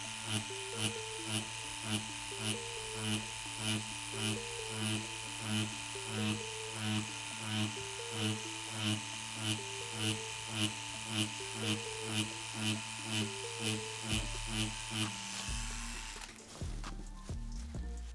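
A tattoo machine fitted with a three round liner needle runs at 8.1 volts, a steady rapid buzz with regular pulsing that continues close and loud for most of the run, then cuts out near the end with some handling noise.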